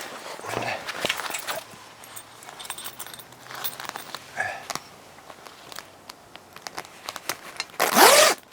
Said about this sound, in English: Zip it down.